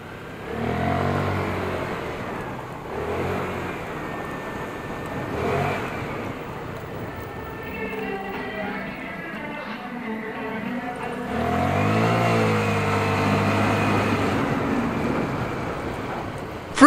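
Euro Motor Griffin 180i motorcycle ridden past, its engine rising and falling through several rev-ups and gear changes, with wind noise buffeting the microphone.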